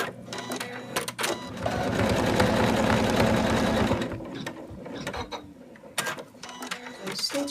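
An embroidery machine stitches black fabric into four Santa doll boots in the hoop, giving a steady, loud mechanical whir with rapid needle clatter for a few seconds, then scattered clicks and handling noises as it stops.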